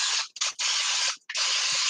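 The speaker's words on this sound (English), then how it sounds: "But I will spray it with the olive oil." Olive oil sprayed onto a ceramic baking pan in three bursts, a close, loud hissing mist with brief pauses between sprays.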